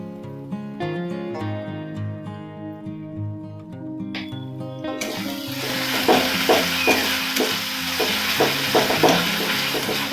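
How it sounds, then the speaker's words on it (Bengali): Tomato masala being sautéed in a pan for a rohu fish poppy-seed curry. Music plays for the first half, then a loud, steady sizzle takes over with repeated scraping stirs. "যতক্ষণ না টমেটো কাঁচা গন্ধটা না যাচ্ছে ততক্ষণ কষে নেব"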